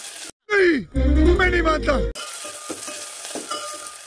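Garden-grown chillies sizzle in hot oil while kadhi is being made. Someone talks over the first half, then a softer, crackling fry with light stirring carries on alone.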